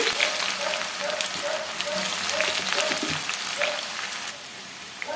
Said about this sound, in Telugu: ఆయిల్ బాగా వేడైన తర్వాత ఇప్పుడు ఇందులోకి మనము కట్ చేసి పెట్టుకున్న ఆనియన్స్ వేసుకోవాలి